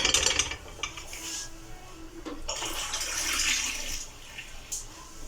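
Three cups of water are poured into a pot of beef pilau. The splashing comes in a few close bursts, with a short lull between them and a final gush near the end.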